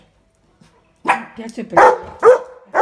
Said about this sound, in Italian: No, non abbaiare qua che me la ricoglionisci.